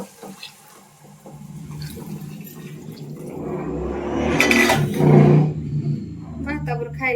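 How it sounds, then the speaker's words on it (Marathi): Hot water poured into a pan of moth beans, rising into a loud sizzling rush that peaks and then settles, with a voice speaking over it. "आता गरम पाणी आपण घालूया मटकीला"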